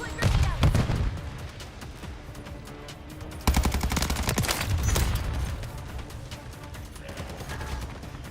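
Gunfire in the video game Modern Warfare Zombies, loud dense bursts of rapid automatic shots with a heavy volley partway through, mixed with game sounds and some voice.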